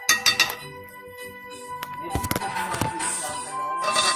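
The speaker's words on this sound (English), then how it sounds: "stir it in and you see it change the color to a nice orangey color" A spoon stirs soup in a pot, giving several light clinks and scrapes against the pot's side, close by and moderately quiet, with a brief voice in the background.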